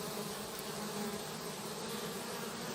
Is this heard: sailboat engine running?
no